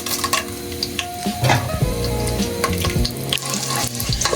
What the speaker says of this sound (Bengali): শুকনো মশলাগুলো আমি হালকা তেলের সাথে ভেজে নিচ্ছি